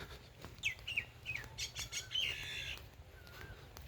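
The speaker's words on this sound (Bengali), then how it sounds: "দেখছেন এটা একটা পাখির আওয়াজ" A wild bird in the countryside calls outdoors with a series of bright chirps and short whistled notes, some rising, clear but fairly faint against a quiet background.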